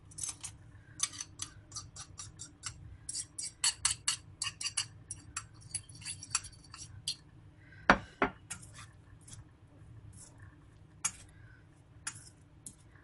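Chicken being mixed by hand with spices, black pepper and white pepper in a bowl for gravy-style orange chicken, giving a run of quick clicks, taps and clinks close by, with one sharper knock midway.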